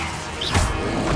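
The Leviosa levitation spell cast in the Hogwarts Legacy video game, one brief swishing burst with a low thump near the middle, over continuous background game noise.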